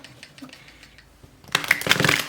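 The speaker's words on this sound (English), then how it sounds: "I did shuffle these prior, but I like to get a shuffle in or two." Tarot cards being shuffled by hand: soft scattered taps at first, then a louder burst of rapid riffling card flicks near the end, close and alone.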